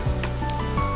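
Masala sautéing in a pan for a prawn pathiri filling, a steady soft sizzle and crackle with a few light clinks of a spoon or pan, close and moderately loud.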